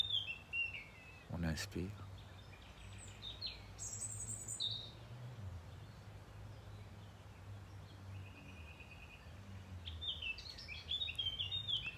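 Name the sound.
bird chirping and singing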